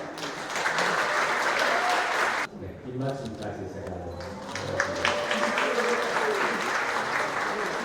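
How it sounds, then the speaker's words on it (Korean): Wedding guests applaud loudly as a couple embraces, a dense burst of clapping that cuts off sharply partway through, followed by an officiant speaking over a quieter crowd murmur that swells again. "여기 한번 포옹할 때큰 박수."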